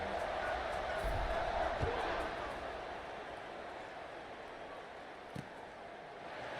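A large stadium crowd at a Kansas vs BYU American football game roars and cheers steadily throughout, a dense wash of noise with a brief thump near the end.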